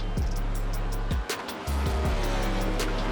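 An iRacing race car at Watkins Glen overshoots a corner and slams into the outside wall, engine droning loudly then cutting with a thud and scrape before revving back up with other cars nearby.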